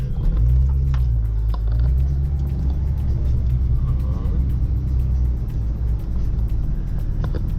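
A car pulls away in traffic on a driving lesson, its engine a steady low rumble with road noise throughout, no other sound standing out over the continuous hum.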